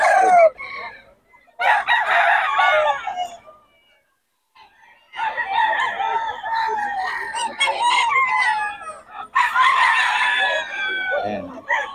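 Roosters and chickens at a poultry market in Bocaue crow and cluck in repeated bursts with short pauses between them, several birds close by and fairly loud.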